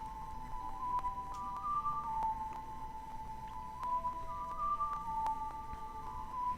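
A character in the video game Zelda: Ocarina of Time whistles a steady tune of sustained, wavering notes, soft and alone over a quiet low game background.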